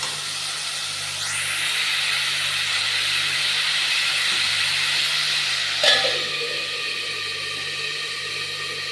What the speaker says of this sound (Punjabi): ਪਿਆਜ਼ਾਂ ਦੇ ਵਿੱਚ ਪਾ ਲਿਆ ਸਰੋਂ ਦਾ ਤੇਲ ਆਪਾਂ ਇਹਨਾਂ ਨੂੰ ਵੀ ਲਾਈਟ ਬਰਾਉਨ ਹੋਣ ਤੱਕ ਪਕਾ ਲਾਂਗੇ